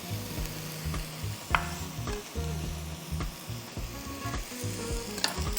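Vegetables frying in a soup pot while being stirred, giving a soft continuous sizzle with rhythmic scraping and clinks from the spoon, close by and with no talk.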